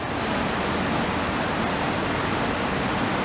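Man-made waterfall on the Schuylkill River, a steady, dense broadband rush of falling water that holds an even level throughout with no pauses and no voices.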